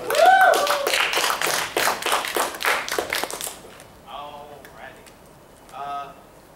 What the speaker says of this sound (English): I'm clapping for you, Dylan.